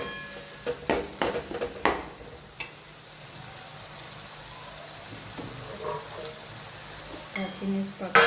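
Tomatoes mixed with salt fry in a pan with a steady low sizzle, broken early on by several sharp clinks and scrapes of stirring, with a few more clatters near the end.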